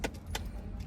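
The armrest cup holder lid of a 2012 Mercedes C200 being shut, giving two soft, close plastic clicks a fraction of a second apart over a low, quiet cabin hum.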